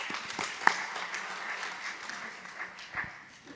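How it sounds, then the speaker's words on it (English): Audience applause at a conference session, a soft continuous patter of many hands at a distance with one sharper clap near the start, fading toward the end. "Another round of applause."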